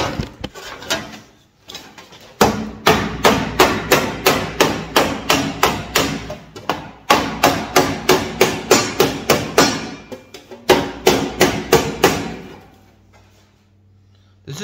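Hand hammering on sheet-metal roofing as side panels with round seams and double standing-seam wall flashing are formed: long rapid runs of sharp, evenly spaced close blows, a few pauses between bursts, and no talk.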